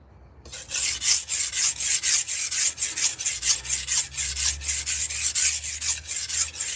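A knife is drawn across a sharpening surface in even, rhythmic rasping strokes, about three per second, close and clear with no talk.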